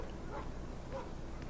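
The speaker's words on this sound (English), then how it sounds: "I hear dogs." Dogs barking in the Broken Sword 5 video game, faint and distant yips and whimpers under a low ambient hum, with a few short bursts.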